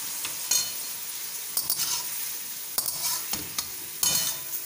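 Khaman dhokla pieces being mixed in a pan off the heat, with soft hissing and several brisk spoon or spatula scrapes in bursts, close and alone.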